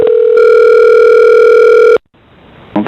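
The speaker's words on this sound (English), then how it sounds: "somebody's dialing is coming through." Loud, steady telephone dial tone on a conference call line, holding for about two seconds before cutting off abruptly to faint line hiss and a brief rustle.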